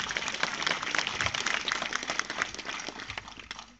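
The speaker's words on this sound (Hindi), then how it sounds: "तालियां बजाएं एक बार जोरदार" Dense, loud applause from an audience at a Chhattisgarhi poetry gathering in Durg, steady clapping filling the space for several seconds with a faint voice or two underneath.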